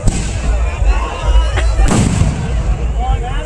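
Festival firecrackers at Pavalathampatti Malayanoor crackle and boom, with repeated loud bursts, a sharp bright crack near the middle and a continuous rumbling wash in between.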